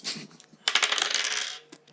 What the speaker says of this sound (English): Roll me a dice.